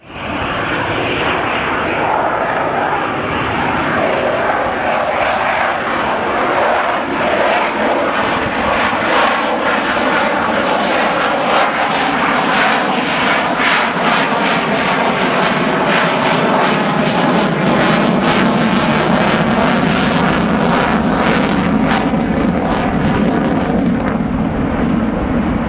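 Fixed-wing aircraft flying aerobatic manoeuvres at the Cosford airshow, a loud sustained engine roar with a rising and falling pitch as it passes, crackling rumble swelling toward the middle.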